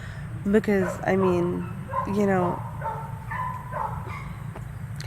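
Dogs bark and yip repeatedly in the background, several loud sharp barks near the start followed by fainter whimpering calls, while a person speaks briefly.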